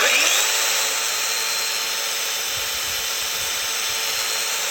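A Festool Domino XL 700 joiner running with its front piece removed gives a loud, steady, high motor whine that starts sharply and holds constant, close up and alone.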